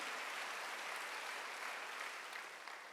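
A church congregation at a Sunday worship service claps together in a steady, fairly faint burst of applause lasting about three seconds, with no voices.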